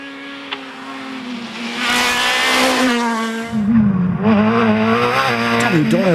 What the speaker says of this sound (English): Dara O'Riordan and Tony McDade, the Cork crew in the Renault Clio R3, are next up